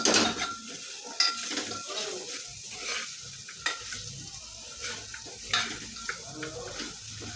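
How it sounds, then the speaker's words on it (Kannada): Soybeans stirred in a hot pan, sizzling and frying with scraping and clinking from a spoon against the metal, close and moderately loud, in irregular strokes. "ಸೋಯಾಬೀನ್ ಹಾಕಿ ಚಲೋ ಮಿಕ್ಸ್ ಮಾಡ್ಕೊಳತ್ತೀನಿ ನೋಡಿರಿ"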